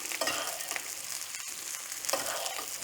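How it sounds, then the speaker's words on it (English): Steak being basted with garlic thyme butter in a tilted cast iron skillet sizzles steadily up close, with soft swells as spoonfuls of hot butter are poured over the meat, and no voices. "tilt the pan on its side and just baste the steak with that butter"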